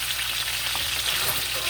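A thick cowboy steak sears in a hot pan, a steady close frying hiss with light crackle and no talking.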